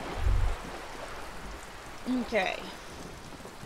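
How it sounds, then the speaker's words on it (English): Steady rainfall in the video game Disco Elysium, a soft continuous hiss with a low rumble of thunder near the start and brief speech partway through. "Still out here, even in the rain."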